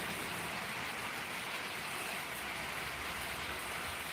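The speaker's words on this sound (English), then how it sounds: "with the rain in the background" Steady rain falls in the background as a constant, even hiss with no breaks, faint and unchanging throughout, with no voices over it.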